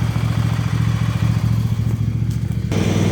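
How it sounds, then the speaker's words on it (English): A Husqvarna lawn mower engine running steadily and fairly loud and close, a rough pulsing drone with some clatter that shifts slightly near the end. "I think I heard the engine on the Husqvarna change, but it's working."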